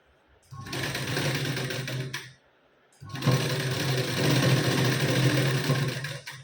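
A sewing machine stitches the sleeve of a katori blouse in two loud, close bursts of rapid whirring, separated by a short pause.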